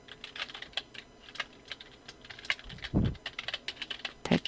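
Fast, light keystrokes on a computer keyboard while typing text into Photoshop, irregular clicks with a couple of heavier key thumps, quiet and close, without speech.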